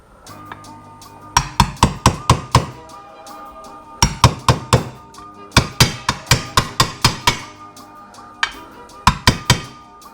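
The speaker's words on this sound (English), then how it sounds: "you're just going to tap it in until it's flush. I just like to use" A hammer taps a water pump seal into place on a Yamaha YFZ450R quad during a pump rebuild. Sharp metallic knocks come in quick clusters of five to eight, loud and close, with short pauses between bursts.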